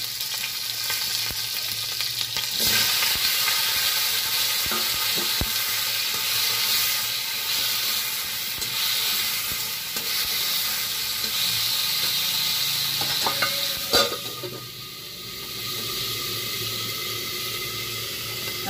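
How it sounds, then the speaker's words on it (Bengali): Drumsticks, potato, pointed gourd and okra fry with a green chili tempering in a pan, giving a steady loud sizzle throughout with a few clinks of stirring near the end. "এই যে ডাঁটা, আলু, পটল, ঢেঁড়স দিয়ে কাঁচা লঙ্কা ফোড়ন দিয়ে"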